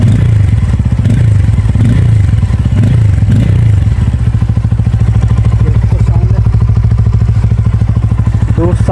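Bajaj Pulsar N250 motorcycle with its stock muffler removed, engine revving up and down in loud, close throaty bursts, then settling into a steady, rapid idle thrum.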